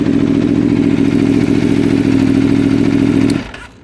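A 2019 Aprilia Tuono V4 Factory motorcycle engine idling close by, a loud steady low rumble with a fast even pulse that cuts off abruptly near the end.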